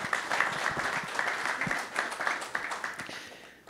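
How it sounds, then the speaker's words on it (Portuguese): An event audience in São Paulo applauds the guests with steady, dense clapping that holds for several seconds and then tapers slightly toward the end. "Uma salva de palmas para os nossos convidados."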